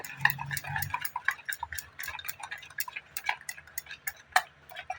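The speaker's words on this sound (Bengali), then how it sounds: "এক স্পুন বেকিং পাউডার হাফ টি স্পুনেরও কম বেকিং সোডা তো দিয়ে আমি ভালো করে মিশিয়ে নেব" Batter for poa pitha, mixed with baking powder and baking soda, is stirred in a bowl, the utensil tapping out a quiet, quick, ticking rhythm against the sides.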